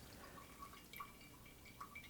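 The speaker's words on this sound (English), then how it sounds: "look how clean that water is coming out the bottom" Filtered water drips steadily from the bottom of a sediment pre-filter, faint and close, with a few sharper drops standing out against a soft background hiss.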